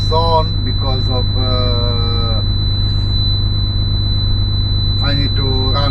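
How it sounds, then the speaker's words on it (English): A road train truck's engine idling in a low, steady throbbing drone under someone talking, with a constant high electronic tone whining throughout. "I need to run the engine to run the microwave"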